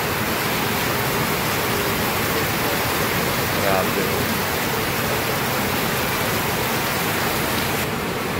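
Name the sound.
heavy rain, like a typhoon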